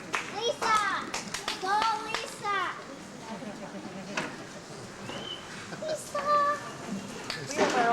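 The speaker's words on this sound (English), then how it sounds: "We have our own cheering squad down there." Children cheer at a 1998 Unity High School graduation ceremony: bursts of excited young voices shouting and squealing, with scattered clapping in the hall and quieter murmuring between the outbursts.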